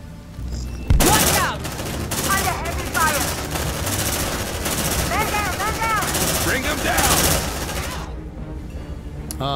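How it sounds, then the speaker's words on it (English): Heavy gunfire from the video game Aliens: Dark Descent erupts in dense, sustained automatic bursts that rattle almost nonstop, with combat voices mixed in and a sudden drop-off near the end. "Under heavy fire!"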